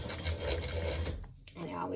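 A vintage Singer 15-88 industrial sewing machine stitches faux leather pants with a steady, rapid mechanical whir and clatter, briefly easing mid-run, with a voice talking over it.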